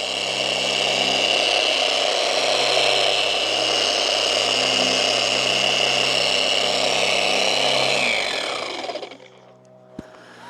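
A dual action polisher runs on car paint with a steady high whine and buzz, close and continuous for about eight seconds before winding down and stopping, followed by a faint click.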